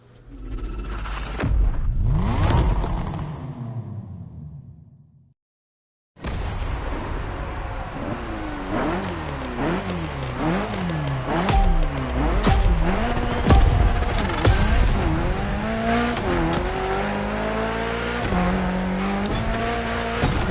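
A Mitsubishi Evo 9 in The Crew Motorfest, built for a Gymkhana event, revs hard and loud, its engine note climbing and falling through repeated sawtooth pulls with tire squeal, after a brief silent gap.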